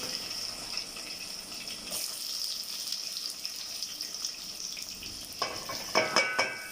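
Onions sizzle in a cup of hot oil for mutton biryani, a steady bright hiss that swells into sharper spitting bursts near the end, with no voices.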